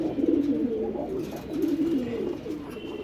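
Pigeons coo in repeated low, throaty phrases, close and steady, several rolling calls overlapping across the few seconds.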